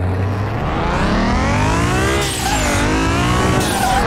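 Simulated car engine from Car Mechanic Simulator 2021 driving on a test track with bumps, loud and continuous with rising and falling revs through gear changes and a brief tire squeal during a drift, with no talking.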